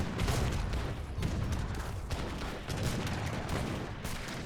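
Volleys of gunfire and booming artillery from Age of Empires III units in a multiplayer match, a dense, continuous clatter of overlapping shots and blasts with no clear gaps.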